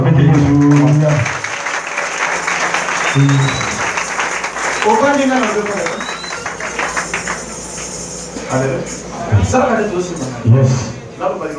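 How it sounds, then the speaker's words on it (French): Church congregation clapping during a worship service, a bright burst of applause at the start, then mixed with a loud preacher's voice, singing and crowd noise. "Acclamez pour Jésus."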